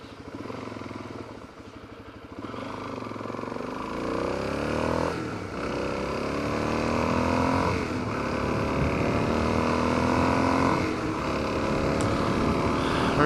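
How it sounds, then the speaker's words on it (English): Motorcycle ride recorded through a helmet-mounted mic on the way to St. Mary's Glacier, with an engine drone that rises and falls through gear changes under a steady rush of wind buffeting; no one talks. "See if we can judge wind noise."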